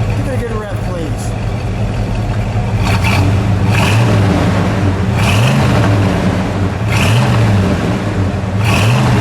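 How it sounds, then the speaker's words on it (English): A 1972 Buick GS Stage 1 with a 455 V8 revs repeatedly while stopped, deep blips rising and falling over a rumbling idle, loud and close. "Give it a good rev, please."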